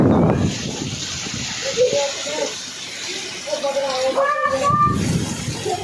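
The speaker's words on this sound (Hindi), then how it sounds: "बहुत ज़्यादा पानी गिर रहा है" Heavy monsoon rain pours steadily and muddy water floods a home courtyard during a storm, giving a constant broad hiss with sloshing water and nearby voices talking over it.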